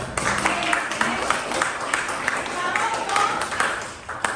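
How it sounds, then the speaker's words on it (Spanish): A classroom of students gives a student named Sharon a round of applause, a dense, even patter of many hands lasting a few seconds, heard alongside voices in the room. "un aplauso para Sharon"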